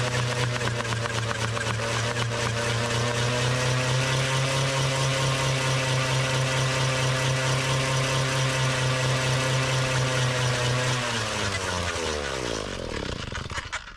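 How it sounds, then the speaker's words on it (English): A post hole auger engine is stuck in the ground in the woods with the throttle pinned wide open, droning at a steady high pitch before winding down and fading near the end. "the auger is stuck in the ground and the throttle's pinned wide open"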